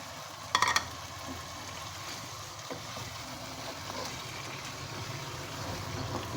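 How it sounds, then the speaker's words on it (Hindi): Chicken pieces fry with tomatoes, ghee and about 100 grams of yogurt in a pot, making a steady low sizzle throughout, with a brief clatter near the start. "दही के पानी में इसको भून रहे हैं"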